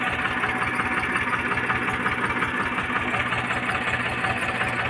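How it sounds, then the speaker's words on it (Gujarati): A farm tractor engine runs steadily in a village during the rainy season, a loud continuous low rumble with a constant mechanical drone and no break or change in pace. "ઝડપથી ચાલુ કરે ટ્રેક્ટર"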